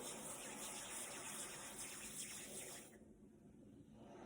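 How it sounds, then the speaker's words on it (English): A recording of ocean waves plays as a steady, hissing wash of water noise, then drops away abruptly after about three seconds, leaving near silence. "today I was using it for the ocean sounds. I hope you can still hear it."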